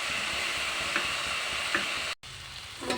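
Chopped potato and onion sizzling loudly in a hot pan with a dense, steady frying hiss, a couple of faint stir scrapes, then a brief cut to silence before the sizzle resumes with a soft clatter.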